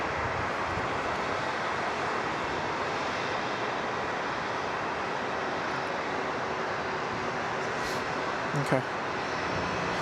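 A Qantas airliner at Sydney Airport, a steady broad roar of jet engines that holds loud throughout, with a brief word spoken near the end.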